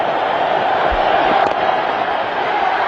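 A large stadium crowd roars continuously at a night cricket match in Ahmedabad, a dense sustained cheer with no break.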